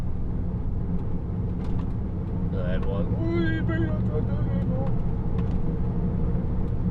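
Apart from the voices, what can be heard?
truck driving along road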